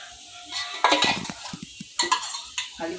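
Onions dropped into hot oil in a pan for vegetable khichuri, brief bursts of sizzling with spoon clatter and stirring scrapes, close and fairly quiet, no talking.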